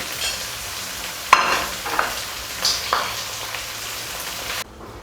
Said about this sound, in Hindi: अब हम इसमें जनाब डालते हैं टमाटर, बारीक कटी हुई टमाटर।